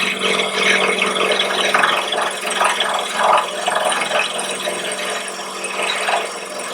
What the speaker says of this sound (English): I'm going to go back to my standard parting tool. It's fairly wide.